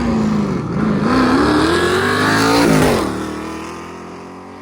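A Ford Falcon and a Pontiac race side by side, engines loud and close, revving upward in pitch for about three seconds before easing off.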